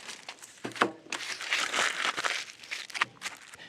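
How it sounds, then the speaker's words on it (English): A shallow paving brick being wrapped in aluminum foil, shiny side out: close, continuous crinkling and crumpling with sharp crackles and a few louder rustling bursts, no voices. "you wrap it in aluminum foil, shiny side out"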